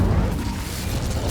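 A fire spell cast in Hogwarts Legacy roars out as a dense, rumbling burst of flame, loud and continuous for a moment before ending in a brief sharp flare.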